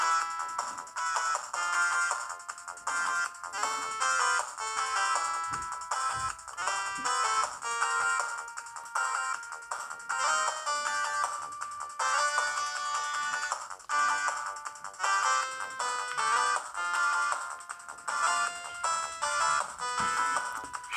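Outrun's video game music plays from the Sega Genesis version on an Anbernic RG350 retro handheld: a bright, steady synthesized melody with chiptune-like tones running continuously, with no one talking.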